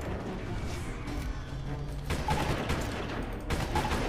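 Gunfire in the video game Prototype, a steady fusillade of rapid shots filling the whole stretch, loud and continuous with bursts swelling near the end, no talk.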